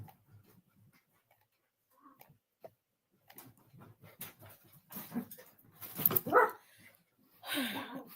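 Puppies barking indoors: faint scattered yaps at first, then louder, closer sharp barks and whimpering yelps crowding together toward the end.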